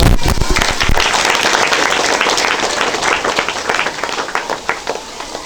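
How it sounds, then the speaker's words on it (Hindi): Loud, dense applause from an audience at a college student competition prize giving, a sustained wash of many hands clapping that thins into scattered claps near the end. "तालियां बजा दीजिए।"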